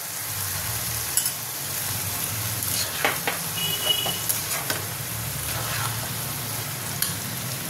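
Fried potatoes go into a curry in a pan, a steady close sizzle with a few clinks and soft knocks of stirring scattered through, no voices.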